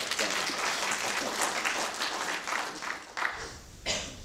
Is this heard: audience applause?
yes